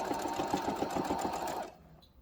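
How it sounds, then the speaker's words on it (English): Sewing machine stitching fabric for a lip balm holder: a steady, close, whirring run of stitches for under two seconds, then it stops, with no talking. "do not forget to backstitch after you forward stitch a bit"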